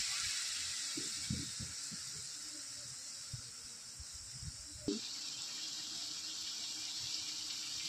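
Water being added to sautéed chicken gravy in a pan, a broad steamy hiss with scattered bubbling and clattering pops, easing to a quieter steady hiss after a sharp clink midway.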